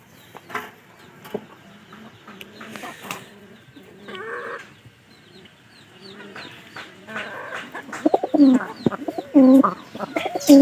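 A pair of pigeons tethered to a tree by day call with soft, repeated cooing and throaty bursts that grow louder and denser toward the end, with no talking over them.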